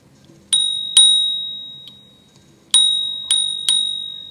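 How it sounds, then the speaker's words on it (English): Built-in bell on a Rad Wagon cargo e-bike rung five times in uneven pairs and singles, each bright metallic ding ringing out and decaying over quiet background. "Got the built-in bell, which is very, very cool, handy feature."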